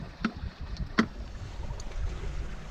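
Sailboat sailing at night at about four knots, a low steady wash of water and wind along the hull with a few brief creaks and knocks, faint and close, no voices.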